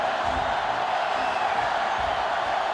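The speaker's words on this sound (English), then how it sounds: "this crowd is going absolutely insane" Stadium crowd in a college football video game, Texas against Notre Dame, a dense, steady roar of cheering that fills the whole stretch without letup, loud and continuous with no distinct voices standing out.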